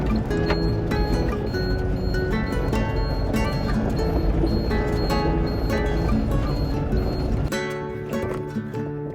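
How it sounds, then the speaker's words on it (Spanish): Water pouring and dripping steadily out of a broken tube, a dense continuous splashing and trickling that holds loud and steady before easing off near the end. "Bueno, pues nos ha perdido todo el agua."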